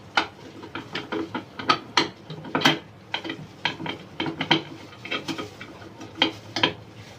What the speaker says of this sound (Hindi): ये अब इस तरह से ये क्लिप लगा देंगे